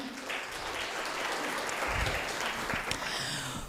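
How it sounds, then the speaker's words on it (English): An audience at a research and innovation event breaks into dense, sustained applause, many hands clapping at once for a few seconds, loud and close throughout. "Can we clap one more time?"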